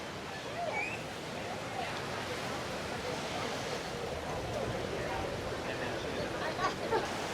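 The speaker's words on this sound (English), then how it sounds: "Those waves are really picking up." Ocean waves roll in and break on the beach at Cozumel. They make a steady, broad wash of surf that keeps up without a break. Wind noise runs through it, and one or two louder surges come near the end.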